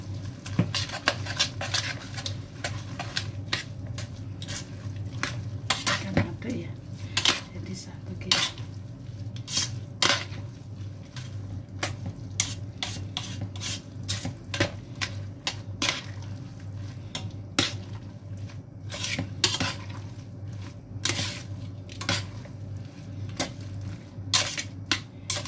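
Instant noodles are stirred with seasoning in a dish, giving a long stretch of soft, irregular scraping and clinking of utensil against bowl, close and moderately quiet with little talk.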